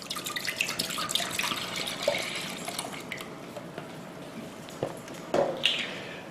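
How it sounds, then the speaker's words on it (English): Half and half is poured into a crock pot or regular pot while making restaurant-style queso dip. A soft, close stream of liquid splashes and trickles steadily, with a few light clinks and no talking. "start off by taking your half and half and pour that into either your crock pot or"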